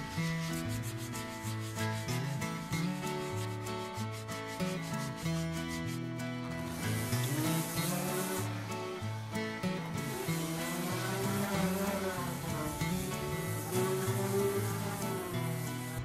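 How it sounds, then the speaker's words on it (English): An electric sander works across a wooden porch table top, giving a loud, continuous whirring and scraping hum that holds steady for the whole stretch, with no talking. "I just figured that I could give the top at least a good sand and then put some poly on it"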